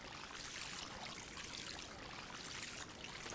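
A watering can sprinkling crops in the game Don't Starve, giving a steady, soft pouring hiss that lasts a few seconds without a break.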